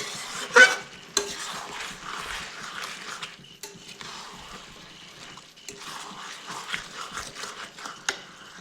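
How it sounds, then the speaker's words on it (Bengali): Chicken stir-fried with spices and no water added, a spatula scraping and stirring through the pan with a low sizzle underneath, steady near scraping strokes and occasional sharper clinks. "এই সব কিছু ভালো করে মিশিয়ে 5 মিনিট কষিয়ে নিচ্ছি।"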